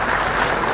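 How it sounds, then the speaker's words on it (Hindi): Dense burst of audience clapping at a Jharkhand assembly foundation day event, welcoming the Chief Minister, a short steady patter of many hands heard loud and near. "तालियां आपकी तरफ से जोरदार हो।"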